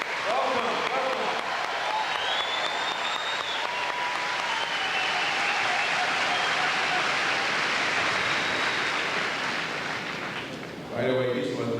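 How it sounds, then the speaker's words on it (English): Large crowd applauding graduating students at an Embry-Riddle Aeronautical University commencement ceremony in Daytona Beach: dense, sustained clapping with faint cheers and whistles, steady and loud for about ten seconds before fading, with a voice starting at the end. "Can we give a round of applause to our students, graduates?"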